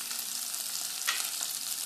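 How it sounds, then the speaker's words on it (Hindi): Paneer pieces with black pepper frying over high flame, a steady bright hiss of oil with a few crackles, close and alone. "इसको हाई फ्लेम में हमें फ्राई करना है."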